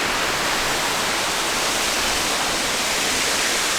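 Steady, dense roar of a waterfall at Dunn's Falls Park, close and loud, broadband rushing water filling the whole clip without a break and with no voices.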